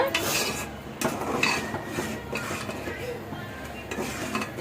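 A curry of dried prawns with tomato, green chilli and onion is stirred in a pan, giving close, continuous scraping and rubbing strokes of a utensil against metal.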